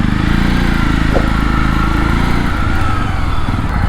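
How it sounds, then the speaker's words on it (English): A single-cylinder motorcycle engine being ridden, a loud, close, steady low thumping drone that holds an even pace and rises a little in pitch toward the end, with no voices. "it is undoubtedly one of the best sounding single cylinder bike in the segment"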